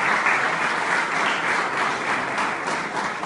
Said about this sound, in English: let's have a huge round of applause for both